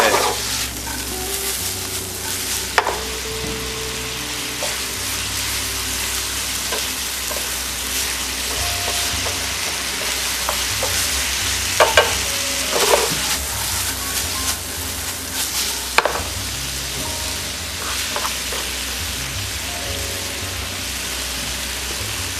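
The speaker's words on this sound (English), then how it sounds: "we now add a little bit of vegetable stock just to cool down the mixture." Shiitake ragout sizzling in a pan after vegetable stock is poured in, a dense steady crackle and hiss with occasional spoon clinks and stirring scrapes throughout.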